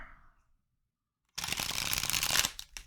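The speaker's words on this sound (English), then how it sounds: "Let me do one more shuffle since they got a little messed up here." A deck of tarot cards is shuffled by hand after a short pause, a dense, bright riffling burst lasting about a second and a half, close and fairly loud, with no talking.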